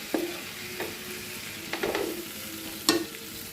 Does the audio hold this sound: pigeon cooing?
no